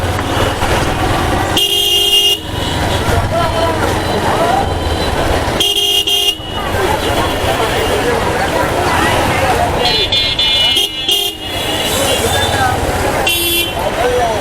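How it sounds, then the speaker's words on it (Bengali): Vehicles stand in a traffic jam in the Rupnagar residential area with a bus ahead, and loud car horns sound in four separate blasts over constant road noise. "বের হতে না হতেই জ্যাম শুরু।"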